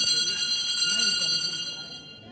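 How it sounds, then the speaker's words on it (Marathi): A theatre's first bell rings before a one-act play at a competition stage, a sustained bright electric ringing that slowly fades, heard from a distance under faint room murmur. "हा जो पहिली घंटा होण्याचा आवाज आहे ना"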